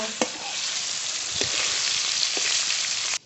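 Pangas fish frying in a pan, giving a steady, loud, close sizzle that runs without a break for about three seconds, with a few faint clicks on top.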